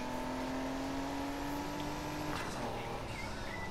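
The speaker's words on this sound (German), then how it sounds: "Wenn ich Gas gebe und den nächsten Gang rein tut" A steady, fairly quiet engine drone from a car in the Need for Speed Heat racing game, rising slowly in pitch as it accelerates and dropping briefly near the end at what sounds like a gear change.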